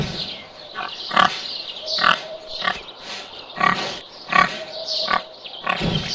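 Red river hogs, the smallest African pig species, grunt in short, repeated bursts at close range, roughly one grunt every second with brief pauses between them, and no voices over the sounds.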